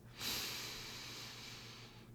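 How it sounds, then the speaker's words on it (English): A single slow inhale through the nose, a soft airy hiss that swells quickly and tapers over about two seconds, close and quiet with no talk. "And now we'll try it breathing in your nose,"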